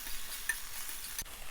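Sautéed okra goes into a pan of hot oil with mustard seeds and is stirred, giving a close, steady sizzle with a brief scrape of the utensil against the pan.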